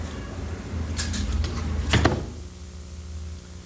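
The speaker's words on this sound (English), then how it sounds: "Lock this door back." At a late-1980s photo store, a door is pushed back and latched, with scraping rattles building to a sharp clack near the middle, close and fairly loud over steady room hum, without talk.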